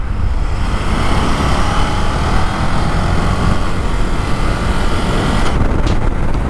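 A 2024 KTM Duke motorcycle engine while riding, a loud, steady broadband engine and wind roar from an onboard position with no clear rev changes, briefly ruffled near the end.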